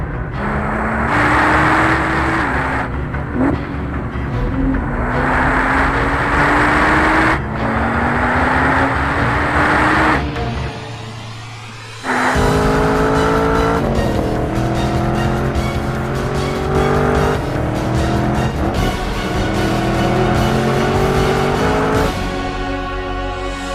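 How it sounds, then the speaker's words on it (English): A 2014 Nissan GT-R Track Edition lapping a race track fast, its engine revving up repeatedly through the gears with rising pitch, brief lifts between shifts and tire squeal, loud and continuous. "it was time for Randy to set some fast laps"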